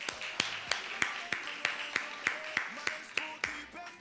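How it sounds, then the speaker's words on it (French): Audience clapping in steady unison rhythm at a French-language diploma ceremony, several sharp claps per second from a nearby crowd, lasting throughout. "on applaudit très fort"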